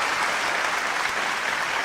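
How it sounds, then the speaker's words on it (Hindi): An audience at a kavi sammelan poetry recital in Dubai breaks into loud, dense applause that holds steady and unbroken throughout, with no voices over it. "एक बार जोरदार तालियां"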